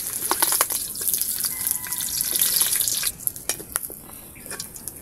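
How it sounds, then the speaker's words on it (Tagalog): Boiled meat fries lightly in a pan, giving a steady close sizzle and crackle with scattered pops and occasional scraping, the sizzle easing slightly partway through. "Yan, ipiprito na po natin ng bagya."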